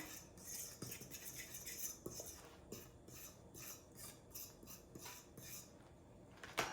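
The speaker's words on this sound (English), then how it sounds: "We're gonna give that a little stir, mix those things in." Flour mixed with baking powder, salt and baking soda being stirred in a bowl for biscuits, a rhythmic series of soft scraping and rubbing strokes with light utensil clinks against the bowl, close and unaccompanied by speech.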